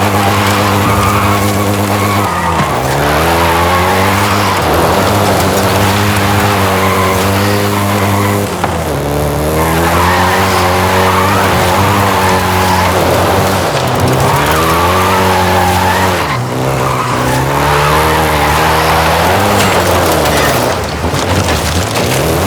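A Volkswagen Golf GTI hot hatch in Forza Horizon 5 revs loudly through repeated gear changes, engine pitch climbing and dropping in cycles with tire squeal, close and continuous.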